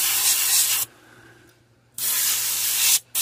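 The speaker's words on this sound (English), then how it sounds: "So if you spray silver over this, it seems like that silver is just a lot brighter." Silver spray paint hisses from an aerosol can onto a fishing lure in two loud, steady bursts with a short pause between them, and a faint low hum continues underneath.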